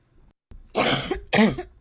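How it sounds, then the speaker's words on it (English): Two harsh, close coughs in quick succession, loud and dry, with nothing else around them. "Did not mean to cough in everybody's ear."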